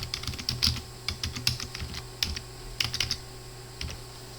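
Quick, uneven keystrokes on a computer keyboard as a Docker version command is entered on a Windows 11 PC, clustered bursts of clicks with short pauses, close and clear, with no voices.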